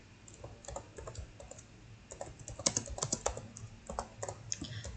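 Fingers type code on a computer keyboard in close, soft bursts of clicking keystrokes, building from sparse taps into a steadier run.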